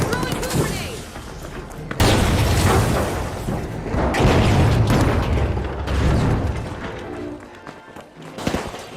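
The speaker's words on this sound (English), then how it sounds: "Tossing a frag." A frag grenade in The Finals goes off with a heavy boom, set inside a loud stretch of gunfire and rumbling blasts, while a voice talks over the chaos.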